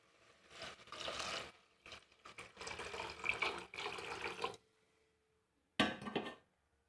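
Coconut milk poured into a pot for a simple coconut pulao, a steady splashing, gurgling pour lasting several seconds with brief pauses, then a short final splash after a silence.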